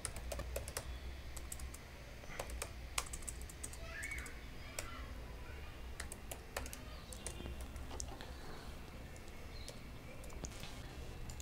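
Quiet, rapid typing on a computer keyboard while writing PHP web code, with irregular clusters of sharp key clicks and brief pauses throughout, no speech.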